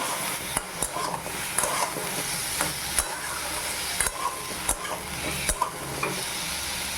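Chicken pieces with salt and turmeric are stirred in a frying pan, a steady sizzle broken by repeated sharp scrapes and taps of a spoon against the metal, close and without talking.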